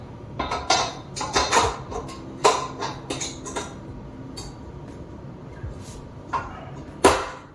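A stand mixer's whisk attachment being pulled off and another fitting grabbed, heard as a run of close metallic clinks, knocks and clatters, with a final sharp clank near the end.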